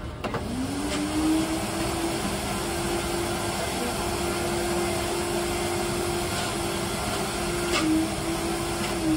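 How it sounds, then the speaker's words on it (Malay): An ice blender runs in a solar-powered coffee and ice-blended drinks food truck, giving a steady, loud motor whine that holds throughout with a brief dip near the end. "Buat ice blender kan kena letak air sikit, baru dia boleh ni."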